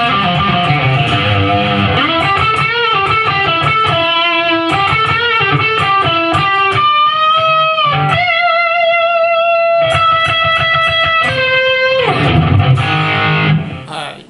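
Distorted electric guitar lead, with a slide part, played over a full band backing track, with sustained bent and sliding notes. The playing is loud and continuous, then fades out at the end.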